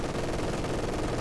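A machine gun in a strategy video game rattles in a fast, unbroken stream of shots, dense and even throughout a brief burst within a noisy battle mix.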